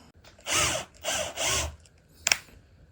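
A long 6.2 mm drill bores into a guitar neck during truss rod replacement, three short bursts of grinding at close range followed by a brief sharp knock.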